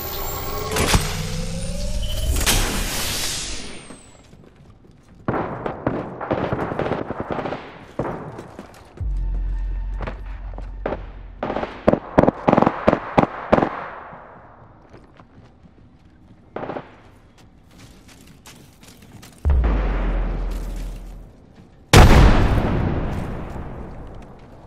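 Gunfire and explosions in Apex Legends, with scattered single shots, quick rhythmic bursts and a few heavy low booms spread over time, loud against a quiet background.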